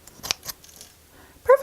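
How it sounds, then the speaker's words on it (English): Scissors snip the top off a paper flower cone and trim loose flyaways, a few quiet cuts early on, then two louder, crisper snips close by at the end. "I'm just going to trim off the top of that cone and get any of these loose little flyaways"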